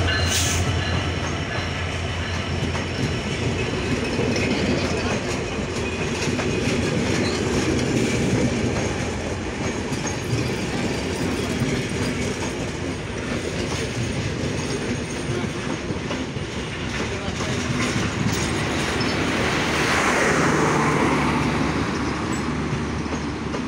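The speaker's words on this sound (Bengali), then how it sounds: "খুলনাগামী আন্তনগর ডাউন সীমান্ত এক্সপ্রেস ট্রেনটি বর্তমানে সৈয়দপুর রেল স্টেশন ইন করলো সঠিক সময়ে" The Khulna-bound 748 Down Simanto Express, an intercity train from Chilahati, pulls into Saidpur railway station with a close, loud, continuous rumble and wheel clatter that runs unbroken throughout.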